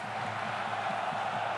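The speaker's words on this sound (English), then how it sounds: "That's lifted the crowd." A rugby stadium crowd at a French Top 14 match between Perpignan and Toulouse roars after a kick, a steady, distant wash of cheering that fills the whole moment without a break.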